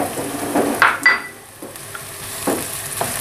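Onion and garlic saute in a hot pan for a vegetable stir-fry, giving a soft sizzle broken by a few clinks and scrapes of a utensil stirring against the pan.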